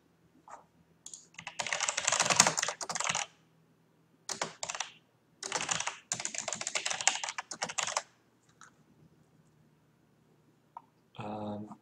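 Fast keyboard typing in bursts of rapid key clicks, with pauses between runs, as a cube algorithm is entered into a livestream chat; close and clear, no talking.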